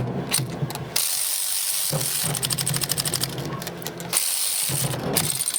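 A ratchet with a 7/16 socket works tight bolts loose on a neglected 1983 Yamaha YZ80. Close, rapid clicking bursts are broken by short pauses as the handle swings back and forth.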